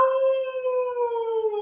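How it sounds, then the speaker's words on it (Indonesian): A wolf howls in a children's story: one long, steady, clear howl that slowly falls in pitch, heard alone without any speech. "tiba-tiba terdengar suara lolongan serigala"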